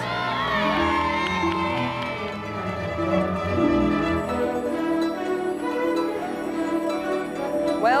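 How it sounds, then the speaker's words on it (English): Crowd cheering and shouting on exhausted racers working through a series of canal locks, a sustained dense roar of many voices mixed with music over the whole stretch. "everyone's behind them cheering them on"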